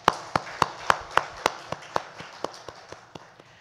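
During a Sunday church service, a congregation claps in a slow, even rhythm. About a dozen sharp claps come in sequence and fade steadily quieter toward the end.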